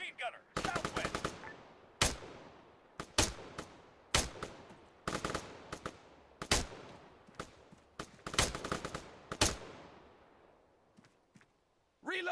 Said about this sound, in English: Machine gunner, 200 meters, front! 4, engage that machine gunner.